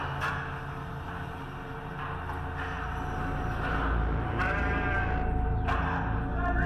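Frightened sheep bleat repeatedly in a slaughterhouse, wavering cries rising over a steady low machinery rumble in an enclosed space.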